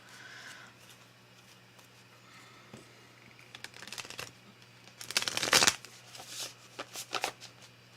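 Tarot cards being shuffled at a table, a soft riffling flutter that builds into a louder, denser burst partway through and then trails off in shorter bursts, close and without speech.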